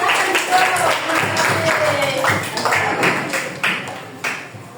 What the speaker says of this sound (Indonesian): Yuk tepuk tangan anak-anak.